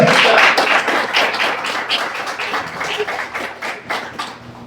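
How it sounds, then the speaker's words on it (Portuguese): A church congregation claps for Jesus during a Portuguese-language service, a dense, steady patter of many hands that fades slowly over several seconds, with faint voices underneath. "Então palmas para Jesus"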